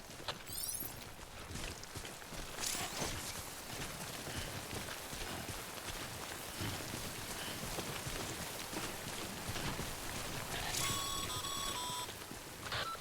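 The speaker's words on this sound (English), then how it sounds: "Don't stay out in the rain any longer than you have to." Steady timefall rain patters continuously throughout a scene in the video game Death Stranding, with brief electronic beeps and tones cutting in near the start and toward the end.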